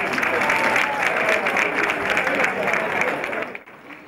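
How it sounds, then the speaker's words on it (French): A dense wall of applause from a large crowd of thousands of university students in a hall in Burkina Faso as the French and Burkinabé presidents enter, steady and loud throughout before thinning out near the end. "Emmanuel Macron fait son entrée dans la salle avec le président du Faso Roch Marc Christian Kaboré sous un tonnerre d'applaudissements."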